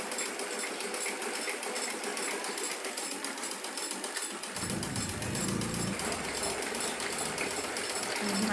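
A sewing machine runs a steady, unbroken line of stitching along the folded edge of a salwar waistband, a continuous mechanical hum heard up close.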